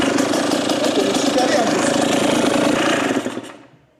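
A 2019 Kawasaki KX 125 motorcycle engine runs close up with a harsh, rattling buzz that holds steady, then drops away and dies out near the end.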